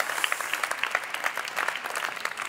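Audience applause for volunteers at a symposium on building a green future, lively close clapping from a seated crowd, dense and even throughout the short stretch.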